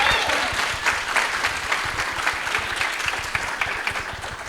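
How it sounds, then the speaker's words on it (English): Audience applause at a Democratic roadshow political event in Ruston, a steady wash of many hands clapping at close range that holds throughout with no break. "let's give Dee a round of applause."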